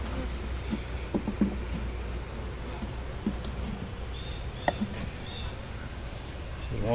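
Honeybees from a freshly captured trap-out colony buzz in a constant hum during rehoming, with occasional bees flying close, light handling knocks and faint talk in the background.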